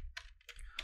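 Keystrokes on a computer keyboard entering a localhost address on a Windows 10 PC: three short bursts of clicky typing, fairly close and quiet, with no talking.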